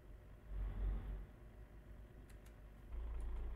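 Low rumbling diesel idle of an Irizar i8 bus in Euro Truck Simulator 2, a steady deep hum that swells briefly and rises slightly near the end, with faint clicks above it.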